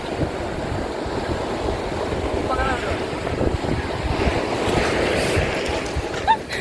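Strong wind buffets the microphone at a beach while waves roll and wash in the background, a continuous loud rumbling roar with faint voices briefly audible.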